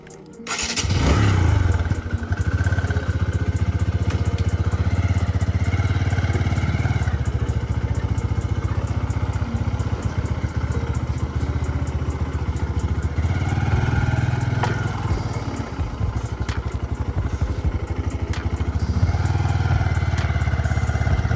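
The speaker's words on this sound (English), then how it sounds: "we're going to take this bike out for a spin, give you my first impressions on what it's like to ride this thing" A TVS Stryker 125 commuter motorcycle from 2023 starts up and runs steadily, its engine a close, loud, continuous drone with shifting revs as it is ridden.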